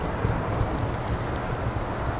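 Steady rain falls outside, a continuous soft broadband hiss of drops with no talk over it.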